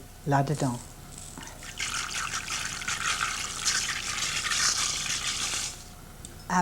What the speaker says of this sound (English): Take salted boiling water, add less than a pan of rice.